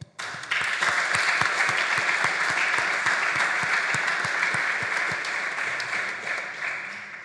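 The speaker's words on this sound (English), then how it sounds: "So I would give him a round of applause." An audience at the closing of a conference breaks into sustained applause for a contributor, many hands clapping together loudly and steadily for several seconds before gradually fading.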